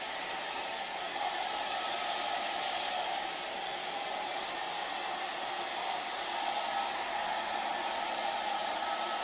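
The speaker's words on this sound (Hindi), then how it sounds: "ज़्यादा हॉट ड्रायर यूज़ नहीं करना है, नॉर्मल थोड़ा ठंडा भी यूज़ करना है" A hair dryer blows on a hair patch, making a steady loud whooshing roar up close that holds constant for the whole stretch.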